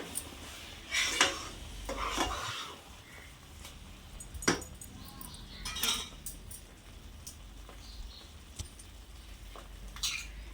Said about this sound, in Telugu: వేసి బాగా కలిపెట్టుకోవాలి సిమ్లో పెట్టుకుని కలిపెట్టుకోవాలండి